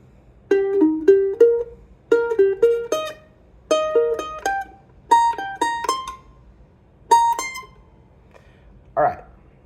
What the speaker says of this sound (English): This is a long chain triad phrase